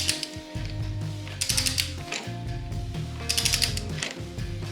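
Someone works a breaker bar on a Loctited bolt on a Shovelhead motorcycle, giving repeated metallic clicking ratchet-like bursts in two rhythmic rounds, close and clear with no talking.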